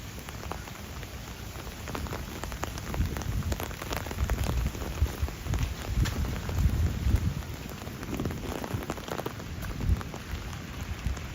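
Rain at night in Duluth, Minnesota: steady, close patter of drops on surfaces and an umbrella, with gusty wind mixed in and no voices.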